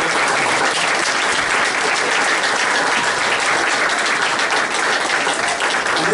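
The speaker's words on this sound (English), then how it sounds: "So let's give them a round of applause." A school audience gives sustained applause for staff, many hands clapping in a thick continuous roar that stays loud and even for several seconds without voices.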